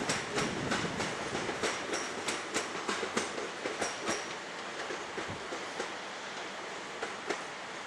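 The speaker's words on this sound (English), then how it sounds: "this train here is moved out from the depot" A train pulls out from the depot at Ramsgate station. Its wheels beat a steady clickety-clack of rhythmic thumps over the rails under a loud broadband rumble, with faint wheel squeal and no talking.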